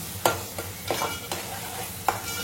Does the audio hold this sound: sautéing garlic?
yes